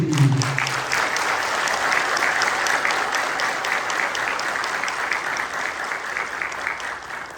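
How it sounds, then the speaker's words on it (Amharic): A church congregation at a Saint Michael feast gathering in San Jose bursts into sustained, dense applause, many hands clapping evenly and fairly loud throughout before easing slightly toward the end. "የአሁኑ ጭብጨባ የዘወትር ነው፣ የአባቶች ቀን ነው"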